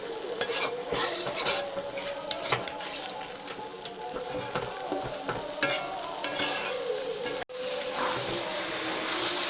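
A spoon stirs prawn and Malabar spinach curry with sugar in a pan, scraping and clinking against the metal over a soft sizzle, with repeated strokes at close range and a brief pause near the end.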